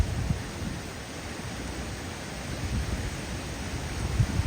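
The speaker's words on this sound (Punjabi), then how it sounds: "ਹਵਾ ਦੇ ਵਿੱਚ ਮੀਂਹ ਕਿਵੇਂ ਉੱਡਦਾ ਜਾ ਰਿਹਾ" Wind-blown afternoon rain makes a steady broad rushing noise with a low, gusty rumble that swells slightly toward the end, no speech.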